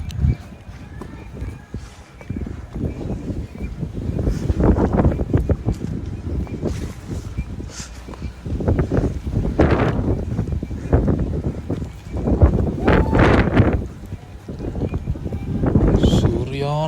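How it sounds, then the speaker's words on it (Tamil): Strong monsoon gusts of wind on Frog Hill buffet the microphone in rumbling surges, rising and falling throughout. "காற்று அடிச்சிட்டு இருந்துச்சுங்க. விட்டால் தூக்கிட்டு போயிருங்க நம்மளை."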